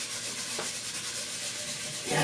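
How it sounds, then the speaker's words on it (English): A pad rubs wood stain into a bare guitar body in a few soft, close swishes, quiet and dry, with no voices. "We're going to dip in the wood, dip into the stain, and just start by rubbing it in."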